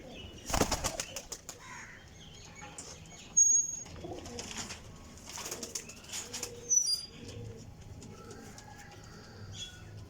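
High flyer pigeons coo softly in low, murmuring phrases, with a sudden burst of flapping wings near the start and scattered faint chirps over a quiet outdoor background.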